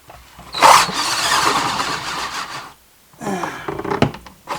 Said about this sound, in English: So I'm running the generator to charge the batteries.